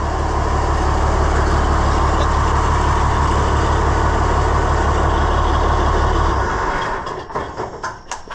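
The engine of an Oliver 1855 tractor idles loud and close with a steady low rumbling throb, then dies away near the end, leaving faint clicks and knocks.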